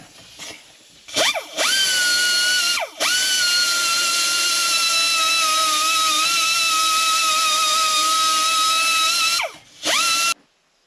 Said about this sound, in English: got a little die grinder here